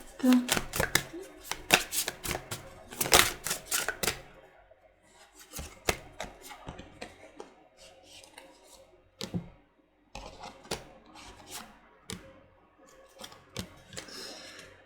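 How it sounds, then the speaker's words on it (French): Tarot cards are shuffled and drop onto a surface in quick bursts of riffling flicks and soft slaps, fairly close and quiet, with pauses between handfuls and a voice speaking now and then. "Qu'est-ce que c'est que toutes ces cartes qui tombent?"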